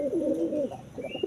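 A pigeon coos close by in a low, throaty, wavering call, one rolling phrase followed by a shorter second coo.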